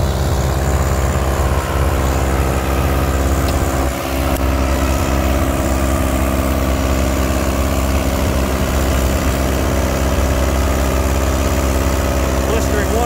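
An antique tractor's engine runs loud and steady during a tractor pull at Lanark, Illinois, with a constant deep drone that stays close throughout.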